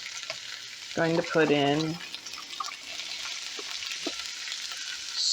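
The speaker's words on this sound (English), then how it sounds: "Going to throw in our garlic and jalapenos that we've cut up." Chopped garlic and jalapenos fry in a little oil, a steady crackling sizzle close up, with someone briefly talking over it before the frying carries on alone.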